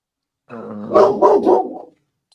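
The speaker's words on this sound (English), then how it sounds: "That's a hell of a bark." A single dog lets out a close, loud bark, a deep drawn-out bow-wow that breaks into a few rough pulses before stopping, with silence around it.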